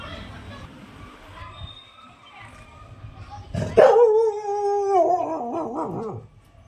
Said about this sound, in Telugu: అరే వెనక ఎక్కడో అరుస్తుంది కుక్కలు